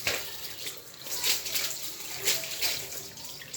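Tap water running steadily into a basin while raw meat for kilishi is washed, with a close, gushing splash that swells and dips as the meat is moved under the stream.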